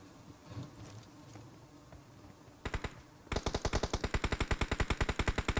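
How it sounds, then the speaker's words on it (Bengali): Automatic gunfire rattles in PUBG Mobile gameplay: a short burst of sharp shots, then a long rapid evenly spaced string of loud close gunshots after a quieter stretch of game ambience. "এই পাশেও এনিমিরা ফায়ার দিচ্ছিল"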